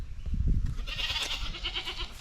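Young goats bleat repeatedly on a homestead, several overlapping cries close by against low farmyard rumble, with no talking.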